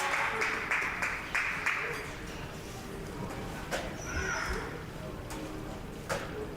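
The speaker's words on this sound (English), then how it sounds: "You can hear the crowd going wild for him." A large crowd roars and cheers in the distance at a kids' ninja obstacle competition, with bursts of clapping rising and falling through the noise.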